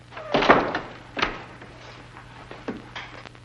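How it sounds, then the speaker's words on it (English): A door being shut and locked in an old 1940s film scene: a sharp thunk of the door closing, then fainter clicks and knocks of the lock over a steady low hum. "Lock the door again."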